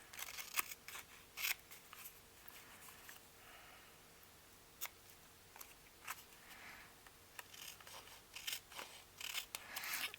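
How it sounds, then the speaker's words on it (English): Scissors cutting paper while making a card, close and fairly quiet, with irregular snips and crisp rustling strokes repeating throughout, no talk. "I think I'm cutting into the paper"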